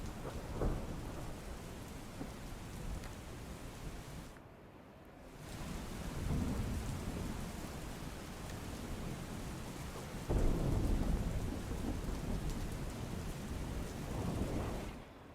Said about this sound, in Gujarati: પાટણમાં પણ સવારથી ધીમી ધારે વરસાદ વરસ્યો હતો